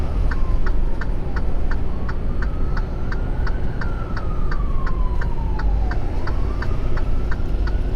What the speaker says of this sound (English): I'm hearing a siren. Who that is? Oh, it's an ambulance.